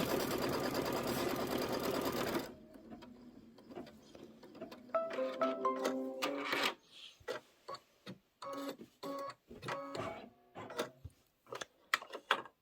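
A sewing machine quilting a chevron stitch in white thread runs in short bursts of rapid mechanical clatter separated by pauses, following a brief louder opening sound.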